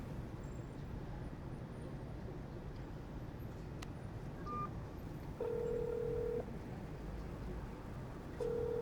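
A telephone is dialed, with short tonal keypad beeps over a low background hum that sounds like traffic, followed by longer steady tones toward the end and no voices.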